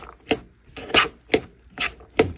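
Onions, green pepper and cucumbers chopped in a small hand dicer, five crisp rhythmic chops spaced about half a second apart, close and alone.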